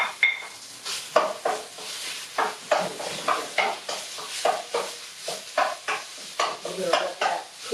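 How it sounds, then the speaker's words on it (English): Ground turkey fries in a pan while being stirred repeatedly, giving rhythmic scraping strokes over a steady sizzle, close and moderately loud, with no talking. "I'm going to add the ground turkey."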